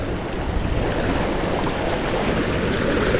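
Strong river current rushes past a fishing net, a loud, steady broadband wash of flowing water with wind buffeting the microphone and no voices.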